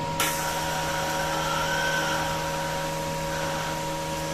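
A Kaiser 310 Pro welder feeds welding wire at a low rate, giving a steady whirring motor hum with a constant mechanical whine after a brief click at the start, close and unbroken.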